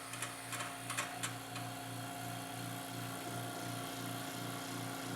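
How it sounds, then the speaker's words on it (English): A jewelry-casting investment vacuum machine degassing casting investment gives a steady mechanical hum with a low pulsing throb. A few light clicks come near the start, and the sound then runs on evenly with no talk. "Now we vacuum the investment before pouring it so that we get as many of the air bubbles out as possible."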